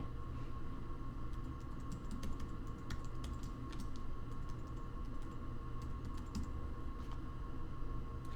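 Email address being typed on a computer keyboard: a quick, steady patter of light key clicks close by over low room hum, with no talking.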